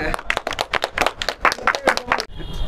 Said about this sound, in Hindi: तो भाई के लिए तालियां